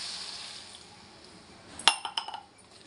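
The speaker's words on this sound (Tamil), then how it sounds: "வேகிறதுக்கு கொஞ்சம் தண்ணி சேர்த்துக்கலாம்." Water poured from a metal vessel into a pan of mixed vegetables cooking for a stir-fry, a short splash with a few sharp clinks of metal on the pan, fairly faint against a quiet kitchen.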